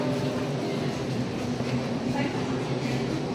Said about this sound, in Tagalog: Dito ako sa MRT.